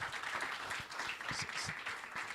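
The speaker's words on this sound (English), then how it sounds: "Give yourselves a round of applause." Faint applause from a business forum audience thanking the panelists of a circular economy session, a brief, soft patter of clapping at a distance.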